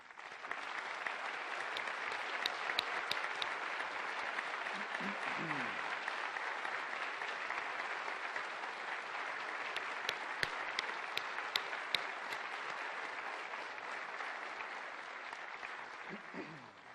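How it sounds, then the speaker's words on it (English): An Ottawa city council chamber audience applauds nominees, a long steady round of clapping at even volume with some sharper nearby claps standing out, and brief voices in the background. "join me in recognizing their outstanding contributions with a round of applause"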